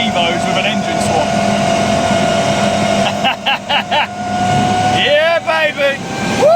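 Mitsubishi Evo 2 with a swapped Evo 7 engine runs steadily with a loud, sustained engine drone and turbo whine, while people talk and exclaim excitedly over it close by.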